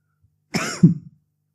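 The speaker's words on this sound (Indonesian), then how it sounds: "Itu batuk." A single short, throaty cough, close and isolated against silence.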